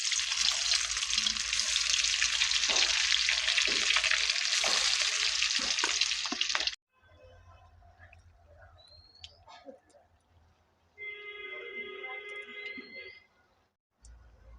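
Egg kopta balls drop into hot mustard oil and fry with a loud, steady hiss for several seconds, then the sizzle drops away to quieter crackles with a few clinks and faint background sounds.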